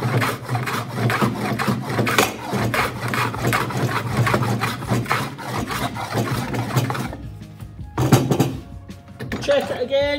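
A rebate plane works along a wooden board clamped in a vise, making steady scraping, rasping strokes that run continuously before breaking into a few separate passes near the end.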